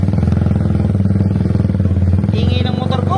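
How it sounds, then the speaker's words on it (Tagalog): A motorcycle engine running close by, a loud, steady, rapid putter with a rattling clatter, joined near the end by faint voices. "Ingay ng motor ko. Ingay talaga."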